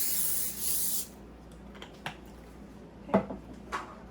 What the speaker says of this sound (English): we're gonna want to grab our cooking spray and just spray our griddle.